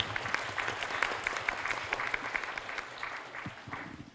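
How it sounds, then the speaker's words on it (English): Steady, dense applause from a forum audience thanking the panelists after an ESG disclosure panel at the Green Economy Forum 2023; even, sustained clapping from a sizable crowd with no voices. "may I ask you to join me to give an applause to the panelists,"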